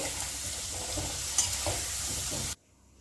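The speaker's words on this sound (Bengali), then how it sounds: "আলু ভাজা হয়ে গেছে, এবার তুলে নেব।" Fried potatoes are lifted out of hot oil: a continuous sizzle with soft scraping stirs and one sharp clink, close and alone, then an abrupt cut to near silence.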